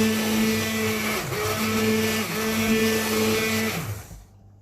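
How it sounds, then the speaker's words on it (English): Hand blender whirring through chestnut and thyme soup, a loud, close, steady motor drone with brief dips in pitch as it works, then winding down and stopping near the end. "I'm going to use a hand blender and blend it"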